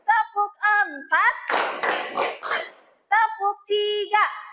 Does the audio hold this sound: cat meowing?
no